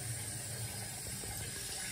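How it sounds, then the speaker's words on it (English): Liquid boils under a domed steam condenser lid on a 1,000-watt heat source, giving a steady, quiet bubbling hiss with faint irregular pops throughout, no talking. "The boil is going on right now."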